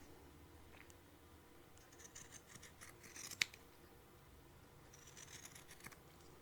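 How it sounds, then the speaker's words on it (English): Scissors trim fabric for a sewing appliqué, giving faint, close snips and soft papery rustles scattered over several seconds, with one sharper click midway. "So I'm going to get all this trimmed all the way around."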